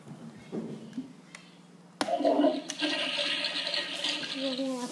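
A Toilet Trouble toy game toilet gives a short flushing sound after a soft click from a pulled handle, the whooshing toy flush ringing on for a few seconds with a person talking nearby.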